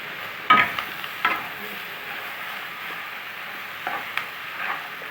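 Tomatoes fry in a pan while being stirred, a steady soft sizzle with a few sharper scraping strokes of the spoon rising above it at intervals.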